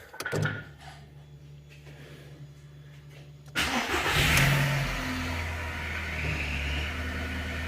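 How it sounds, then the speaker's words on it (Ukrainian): A Skoda Fabia engine starts after its fuel pump was replaced: a short crank catches at once, settling into a steady close idle that continues with a brief rev, no talk over it. "Як бачите, машина запустилась, як то кажуть, з півтика."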